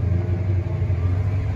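A Ford Triton truck engine being throttled up gently from idle, a low steady rumble with a slight rise, close and moderately loud, with no talk.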